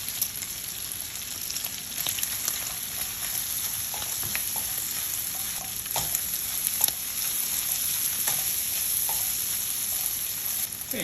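Bacon pieces and shallot fry in oil in a pan with a steady close sizzle and occasional pops and stirring scrapes, and no one speaks.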